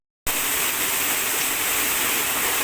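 Rain falls in a dense, loud, steady hiss that starts abruptly and continues without a break.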